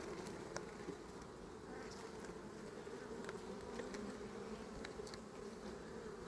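Honey bees swarm around an opened frame lifted from a weak hive during an inspection, giving a dense, steady, close buzzing hum that runs without a break and with no talk.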